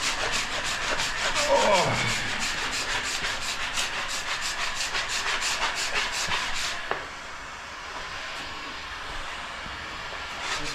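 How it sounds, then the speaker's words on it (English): A plastic scraper pulls wax off a snowboard base that was warmed with a heat gun, making steady, rhythmic rasping strokes, close and moderately loud, that stop partway through. A brief voice is heard. "we're gonna go ahead and scrape off the wax one more time"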